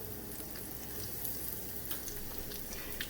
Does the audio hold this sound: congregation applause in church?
no